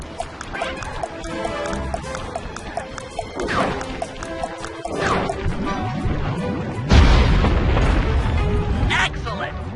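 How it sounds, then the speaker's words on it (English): Dynamite explosions in the video game Sly 3 blowing up balloon anchors, a series of booms and crashes with a heavy, loud blast near the end, mixed with game sound effects and voices. "Place the dynamite when you get near the anchor, or kaboom!"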